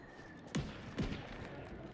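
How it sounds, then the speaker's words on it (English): Gunfire in the video game Outer Worlds 2: two quick, sharp shots about half a second apart, faint and distant over a quiet background. "I hear gunfire like crazy."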